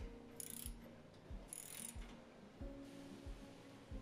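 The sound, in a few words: bolts being fastened to a cargo carrier license plate bracket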